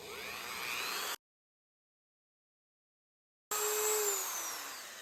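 A Dremel rotary tool sanding and polishing an edge at low speed, a steady high whine that drifts slowly in pitch, cut off by a stretch of silence in the middle before it runs again.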